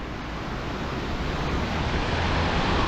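Swollen water rushes continuously near a pond outflow the day after Storm Corrie, a dense, steady roar that builds slightly, with no voices.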